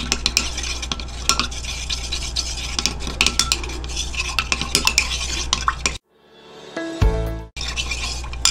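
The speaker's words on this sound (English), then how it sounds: "I'm going to mix both together." Stirring two oils together for a homemade facial cleansing oil, a rapid scraping clatter of a utensil against a container, steady and close, then a brief pause and a few clinks before stirring resumes.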